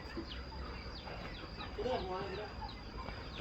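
Chickens cluck faintly at a Lao home on a day off, with scattered soft bird calls behind a steady background hum and some people talking.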